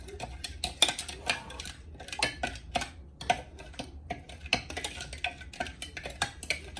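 Spoon scraping and clinking against a pot while homemade chili sauce is stirred, a run of irregular sharp metallic taps and scrapes, close and fairly loud, with no talk.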